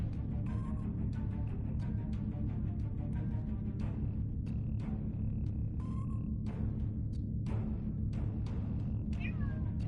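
A pet cat meows repeatedly at close range, several short calls spread across the stretch over a steady low hum of background game audio, with no talk.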